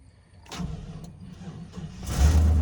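An old pickup truck engine cranks roughly and slowly for a couple of seconds, then catches and turns over with a deeper low rumble, close by.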